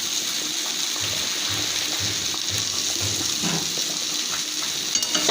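Cabbage is stirred in a pan after fried spice mix goes in, giving a continuous watery sizzle with soft rhythmic scraping strokes, fairly loud and close, no voices.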